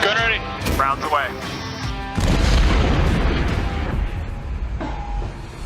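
Heavy gun on an AC-130 gunship firing rounds, a deep boom rolling out and decaying after voices over a radio-like channel, with talk continuing over the rumble.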